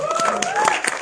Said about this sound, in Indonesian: Tepuk tangan untuk Martino Leo